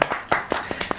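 An audience in a talk-show studio claps hands in a short, scattered burst, about six sharp separate claps over roughly a second, fairly faint.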